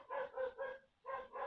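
A dog barks four times in pairs, faint and somewhat distant in the background of an indoor recording, with a short pause between the pairs and no talk over it.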